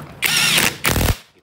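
An impact wrench loosening a bolt on the front shock of a Yamaha NMAX scooter: two loud, close rattling bursts, the first about half a second long and the second shorter, with a brief gap between them.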